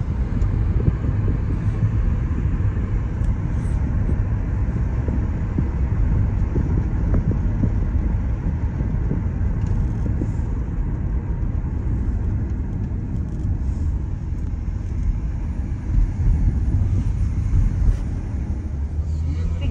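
Steady road rumble and engine drone fill the cabin of a moving car, heard from inside at constant loudness, with people talking throughout.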